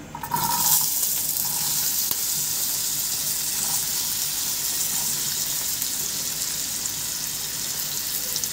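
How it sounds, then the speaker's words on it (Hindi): Potatoes frying in a pan give a continuous bright sizzle, steady and close, with a brief louder burst at the start and no talking. "आलू गलने में ज़रा टाइम लगाते हैं, इसलिए सबसे पहले आलू ऐड करेंगे। फ्राई कर लूँगी।"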